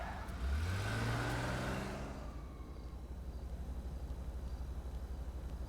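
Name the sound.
car engine revving in GTA V video game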